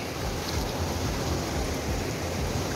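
The Balason river runs nearby as a steady, even rush of flowing water, loud and unbroken throughout, with no voices over it.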